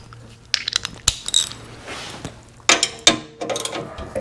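Bolts on a Honda HS928 snowblower auger are tightened by hand with a ratchet, giving several bursts of sharp clicking pawl strokes with short pauses between them, close up.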